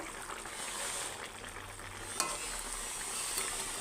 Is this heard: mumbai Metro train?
no